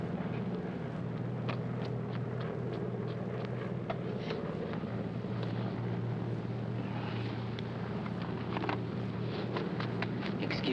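Steady low drone of an airliner's propeller engines inside the passenger cabin in a 1948 film, continuous and moderately loud throughout with no talk.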